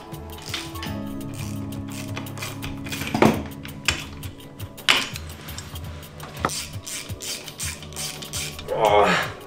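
A ratchet wrench works on a Simson moped, its irregular metallic clicks and clatter coming close up amid tool handling while people talk.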